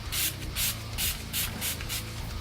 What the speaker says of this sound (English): then I'll just set it with Urban Decay All Nighter Setting Spray